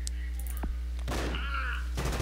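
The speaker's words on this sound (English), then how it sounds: "I one-shot people with this sniper rifle." A single sharp sniper-rifle shot from the video game Frontline Tactics cracks out loud near the middle, with a brief thump earlier and a quieter impact near the end over a steady game hum.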